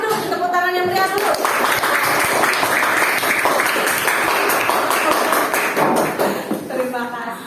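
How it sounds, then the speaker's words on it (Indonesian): A classroom of students claps together in dense, sustained applause for a presenting group, lasting several seconds up close, with a teacher's voice speaking at the start and end. "Kasih dulu tepuk tangan yang meriah dulu."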